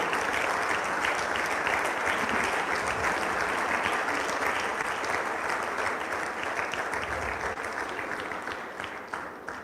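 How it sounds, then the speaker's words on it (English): Sustained audience applause at a Nigerian conference session, a dense, even roar of clapping that holds for several seconds and then slowly thins toward the end. "Please keep the applause going."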